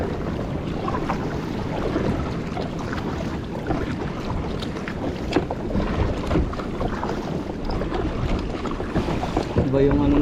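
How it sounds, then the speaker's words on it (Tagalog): A small boat is paddled at sea among seaweed and swirling water, with continuous splashing, sloshing and wind buffeting the microphone close by, and a voice speaks briefly over it. "Hirap magsagwan mga master."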